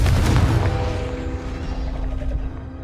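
A Confringo blasting spell explodes in Hogwarts Legacy, a loud booming burst at the start that rolls off into a fading rumble with lingering ringing tones.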